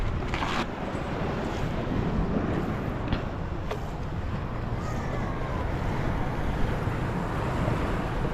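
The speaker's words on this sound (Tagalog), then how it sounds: "Malakas dito ang bugso ng hangin." Strong gusts of wind buffet an outdoor setting near water, creating a loud, continuous roar of wind noise with a few faint clicks and no speech.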